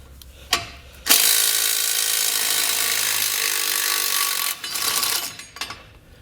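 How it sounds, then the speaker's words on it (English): Ratchet with a 16mm socket backing a bolt out of a 2020 Jeep Gladiator frame, with a sustained fast clicking run for several seconds followed by a few shorter bursts, loud and close with no talking. "we're going to take a 16mm socket and we're going to remove this bolt here along with this bracket"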